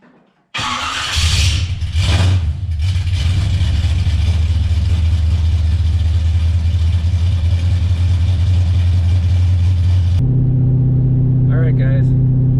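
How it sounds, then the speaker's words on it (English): A Pontiac Trans Am engine cranks and catches within the first second, then roars loud and close with a few revs. It settles into a steady, deep idle that rumbles on to the end. "So we're gonna get her fired up here, go for a little drive"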